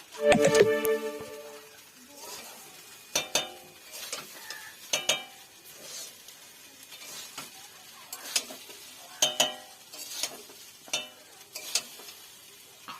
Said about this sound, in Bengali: এইভাবে আস্তে আস্তে হালকা আঁচে নাড়তে থাকবো।